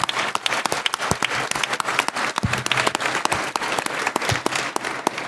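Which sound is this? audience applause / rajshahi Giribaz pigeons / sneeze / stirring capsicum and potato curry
audience applause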